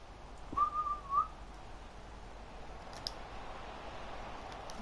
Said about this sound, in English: just blow the whistle, please, F.